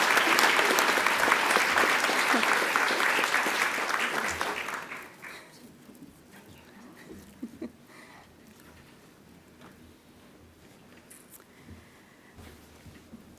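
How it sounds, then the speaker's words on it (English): An audience at a repository conference keynote claps loudly for award-winning teams, dense applause that fades out after about five seconds, leaving a quiet room with faint shuffling and scattered small sounds. "Give them a round of applause"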